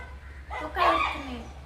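A dog gives a brief bark or yelp at moderate distance, one short burst under a low steady hum with a voice nearby.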